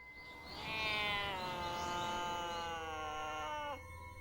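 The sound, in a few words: Toshio's cat cry from the Ju-On horror film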